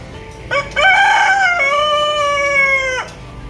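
A bantam rooster crows once, a loud, drawn-out harmonic cock-a-doodle-doo lasting a few seconds, close by with faint background noise.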